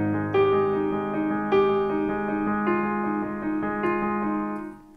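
A piano plays slow, sustained chords in an accompaniment pattern for a song, including a substitute chord. Four or five clear strikes ring out and decay, close and alone.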